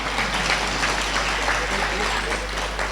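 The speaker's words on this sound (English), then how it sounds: "We can clap for that. That deserves a clap." Audience clapping during a motivational talk on young people and opportunity, a steady dense wash of applause held at even loudness with no spoken words, over a constant low electrical hum.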